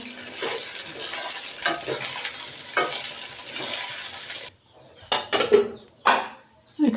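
Biryani is stirred in a pot with a spatula, and a bubbling, sizzling sound comes through in uneven bursts, then gives way to short separate scrapes and stirs after a moment of near silence.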